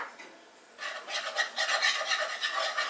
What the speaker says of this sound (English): Then I'm going to whisk in about 2 tablespoons of flour.